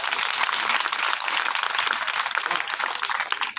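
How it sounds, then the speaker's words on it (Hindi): Audience applause at a Hindi comic poetry gathering (kavi sammelan), a dense, sustained burst of many hands clapping that fills the whole stretch with steady loud energy. "एक बार उनके सम्मान में जोरदार तालियां बजाएं।"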